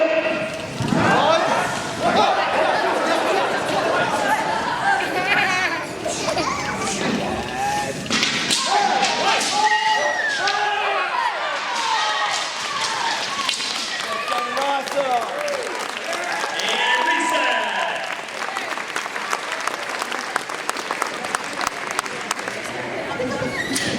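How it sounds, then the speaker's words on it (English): Wooden bo staffs clack together during a group karate drill at a belt test, a dense stream of rapid sharp knocks much like applause. Crowd noise and voices run underneath throughout. "it was just bows going tick, tick, tick, tick, tick"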